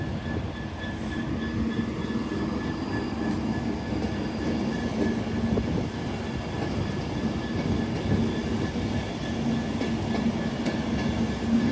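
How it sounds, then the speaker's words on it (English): An Avanti West Coast Class 390 Pendolino electric train pulls out of Carlisle on the West Coast Main Line, a steady, loud rolling rumble with wheel noise and faint whine that holds throughout, with no voices. "here it is, the B Pendolino, your delayed 1648 Avanti West Coast service from Glasgow Central to London"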